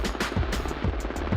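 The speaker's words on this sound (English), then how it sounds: "the incoming medevac helicopter" A medevac helicopter approaches during military medical training, its rotor chopping loudly in a fast, regular thump-thump rhythm close by.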